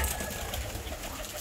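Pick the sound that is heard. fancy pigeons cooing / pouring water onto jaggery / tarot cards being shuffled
fancy pigeons cooing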